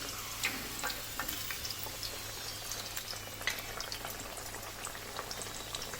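Chicken paratha crisping on a flat pan with no added oil on this side, giving a steady, soft sizzle with scattered faint crackles and pops throughout, close and unbroken, with no voices.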